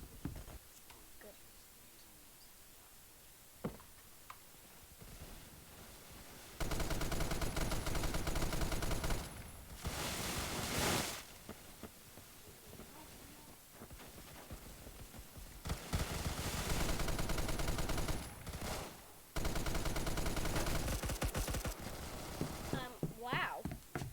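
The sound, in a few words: gunfire shooting in a video game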